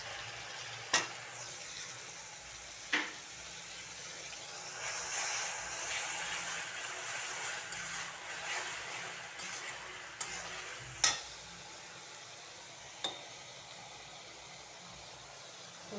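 Ginger and garlic fry in a pan with a steady, soft sizzle, and a few sharp ticks of stirring come through at intervals. No one speaks.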